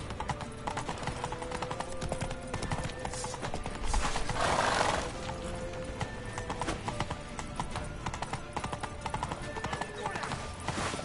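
Rapid clip-clop of galloping hooves with a brief whinny from a horse in the video game The Witcher 3: Wild Hunt, steady and close, with game sounds and voices talking over it.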